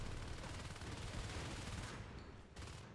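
Marines fire shotguns in the video game Natural Selection 2, a dense, continuous clatter of overlapping blasts that stays steady and fairly quiet with no speech.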